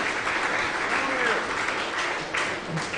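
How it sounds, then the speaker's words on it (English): Crowd applause at a women's 10m air pistol SH1 shooting world championship, steady clapping filling the whole stretch at moderate loudness, with an announcer's voice rising over it. "Big applause means, hey, use your hands."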